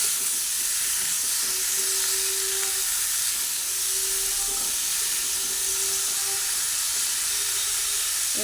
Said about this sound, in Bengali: সেই শশাটা দিয়ে দিলাম ভালোভাবে উপরে নাড়াচাড়া করে করে ভেজে নেব